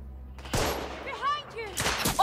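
Gunfire in The Order: 1886 video game: several sharp bursts of shots crack out, mixed with excited voices talking and shouting over them.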